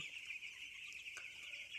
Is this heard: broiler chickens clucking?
yes